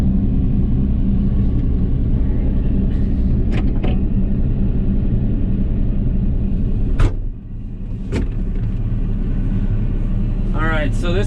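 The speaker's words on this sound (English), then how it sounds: "Alright, so this is the new John Deere 30G" A John Deere 30G compact excavator's engine runs with a steady low rumble, joined by a few sharp metallic clicks and clanks, while someone talks over it.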